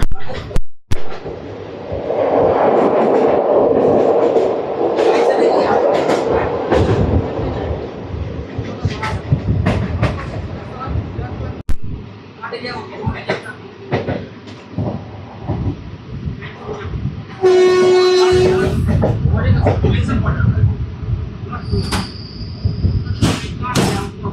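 A passenger train rumbles steadily along tracks winding through hills on the Visakhapatnam to Koraput line via Rayagada, with a loud mechanical roar, a sharp squeal and a horn blast late on, and a person talking over parts of it.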